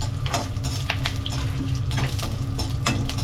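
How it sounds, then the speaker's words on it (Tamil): Cinnamon, cloves, cardamom and bay leaf crackle in hot oil. A loud, steady sizzle sits close by, with scattered pops and a few sharp clinks of a spoon or pot. No one speaks. "எண்ணெய் காஞ்சிச்சு. பட்டை, கிராம்பு, ஏலக்காய், பிரியாணி இலை எல்லாத்தையும் போட்டுக்கலாம்"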